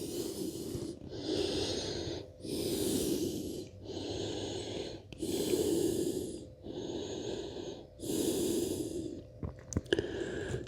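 Deep, slow breathing during a floor stretch, about six long inhale and exhale cycles, each a close, airy hiss with brief pauses between, ending with a few faint clicks.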